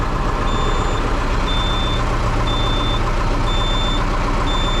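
A YTO NLX 1054 tractor idles with a steady low engine rumble while its air pressure sensor warning beeps in short, evenly spaced high tones, repeating about once per second throughout.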